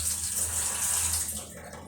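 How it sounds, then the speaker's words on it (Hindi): Water runs steadily from a kitchen tap for washing dishes, a continuous close hissing stream with no pauses. "तो अभी देखिए पानी भी आ रहा है"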